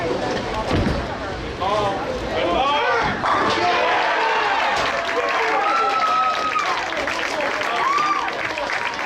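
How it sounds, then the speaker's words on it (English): Applause and cheering fill a bowling alley during a youth bowling tour event, a dense crowd clatter running throughout beneath a voice talking over it. "that kind of applause has got to be related to somebody winning a championship over there"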